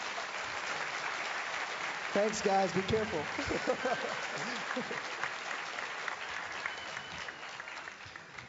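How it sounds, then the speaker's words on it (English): Audience applause for a steering committee at an awards ceremony, a continuous wash of clapping throughout, with a man's brief remarks over it partway through. "How about another round of applause for the steering committee?"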